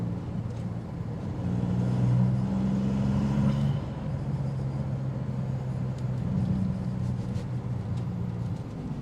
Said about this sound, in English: Exhaust note still filters in.